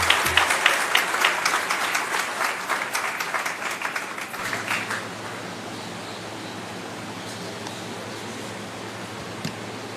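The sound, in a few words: audience applause welcoming the chief minister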